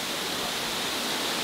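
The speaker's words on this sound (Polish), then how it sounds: "pierwszy raz jestem tak blisko wodospadu" Waterfall in the Carpathian Mountains of Ukraine, a swimmable cascade beside a river, heard up close as a steady, dense broadband rush of falling water with no voices.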